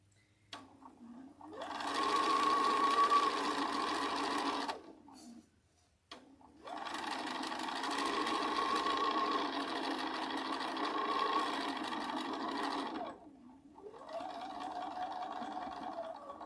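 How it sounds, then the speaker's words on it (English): A sewing machine stitching fabric: three steady runs of fast, even mechanical whirring, the first two several seconds long and the last shorter and slightly lower, separated by brief stops, with no talking. "I do like to sew open side to closed side"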